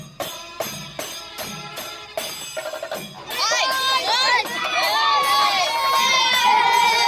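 Schoolchildren at an upper primary school in Cherukode hoot, shout and cheer, starting as rhythmic chanting bursts and swelling into a loud, sustained crowd of high excited voices.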